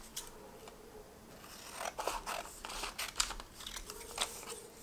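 Scissors make a quick series of crisp snips and faint paper crinkles while trimming a folded square of paper for a panda bookmark, quiet and close with no talking.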